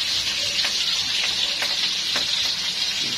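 Hot oil sizzling in a pan as food fries, a steady loud hiss broken by several sharp pops and spatters at irregular intervals, close up with no talking.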